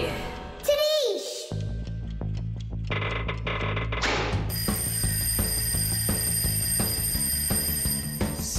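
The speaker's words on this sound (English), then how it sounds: "I think I can hear my alarm ringing." An alarm ringing in a cartoon: rapid, continuous electronic ringing takes over midway and persists loudly under cartoon sound effects and music, with voices speaking.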